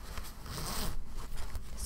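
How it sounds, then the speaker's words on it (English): A bag's zipper is drawn open in a smooth, continuous rasp lasting about two seconds, close and fairly loud, with no talking over it. "And the zipper is really nice."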